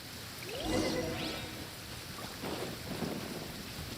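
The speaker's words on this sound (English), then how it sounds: "Of course it's raining. Uh-oh! Lightning storm!" Rainstorm with lightning in the video game Genshin Impact: a steady wash of rain and wind under rumbling swells and sweeping crackles of thunder, moderately loud, with no voices.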